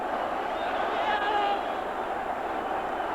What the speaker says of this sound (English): The crowd have gone berserk